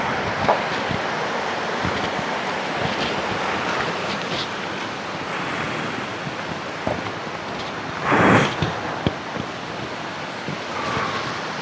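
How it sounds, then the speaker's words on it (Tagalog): Steady rushing water of a river in Nasugbu, Philippines, fills the clip, a continuous broadband wash, close and fairly loud, with a brief louder gust or splash near the end. "Yung ilog sa baba."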